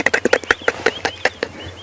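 A bearded woodpecker's territorial tapping at a game reserve in the morning: a quick run of about a dozen crisp, evenly spaced knocks, fairly close and clear, slowing and thinning toward the end, with no talking.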